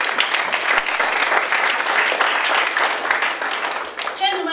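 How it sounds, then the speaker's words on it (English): Audience applause at a hearing-health talk, a steady wash of many hands clapping at moderate volume that continues for several seconds before tapering, with a voice briefly heard near the end. "You can come down and get a clap."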